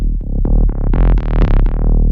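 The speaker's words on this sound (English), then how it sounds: "Let's add some distortion." Distorted synth bass plays a short run of punchy, gritty notes in a steady rhythm, loud and buzzing with no voices.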